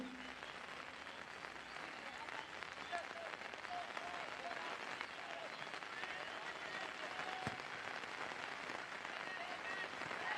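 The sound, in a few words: heavy rain pouring during football match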